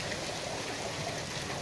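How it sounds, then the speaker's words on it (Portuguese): Rain falls in Brazil's Northeast on the last day of the year, an even, continuous hiss of drops with no voices. "A chuva voltou para molhar a nossa terra."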